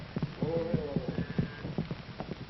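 Cow ponies clip-clopping along at a trot, their hoof beats coming as a steady series of close, moderately loud knocks with a faint low hum and a brief whinny-like tone over them.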